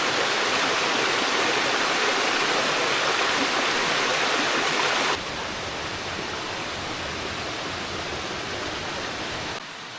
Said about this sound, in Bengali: আর এই ছিল ঝর্ণার ভিউ, আর এখন কিন্তু ঝর্ণা থেকে নেমে যাচ্ছি।